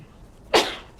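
A single sharp sneeze bursts out near the middle of an otherwise quiet meeting room, loud and brief with a fading tail.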